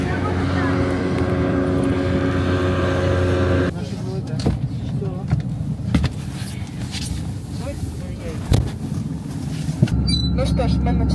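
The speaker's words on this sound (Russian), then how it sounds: "Это катер на воздушной подушке, управляет им капитан." A Khivus hovercraft drones steadily with a loud, continuous engine and propeller roar while travelling over the ice of Lake Baikal in winter, with people talking inside the cabin.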